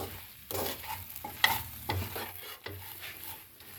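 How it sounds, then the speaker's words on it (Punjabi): Spices are stirred into bhindi (okra) frying with besan in a pan, giving soft scraping strokes of a spoon over a low, steady sizzle, close and alone with no voices. "ਹੁਣ ਆਪਾਂ ਇਹਦੇ ਵਿੱਚ ਮਿਕਸ ਕਰ ਦਿਆਂਗੇ"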